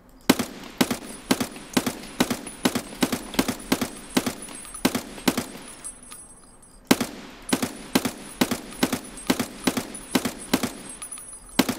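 Rapid bursts of automatic gunfire in a video game raid, a long run of sharp, evenly spaced shots with a brief pause near the middle before the firing resumes, loud and close throughout.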